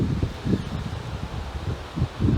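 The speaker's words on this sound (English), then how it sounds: "apologise if this is making all sorts of windy noises, because unfortunately it's windy." Gusty wind buffets the microphone outdoors in low rumbling surges, steady throughout with stronger bursts, rustling close by and no voices.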